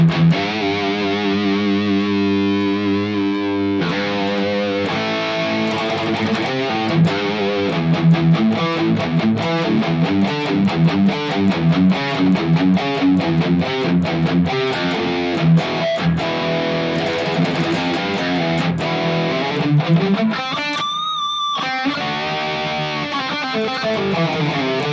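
A high-gain, saturated and scooped electric guitar tone through the Mooer GE 1000 Powerball amp model, with sustained distorted chords and fast chugging riffs playing loud for the whole stretch. A brief pause near the end leaves only a thin ringing note.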